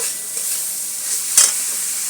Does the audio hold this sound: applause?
no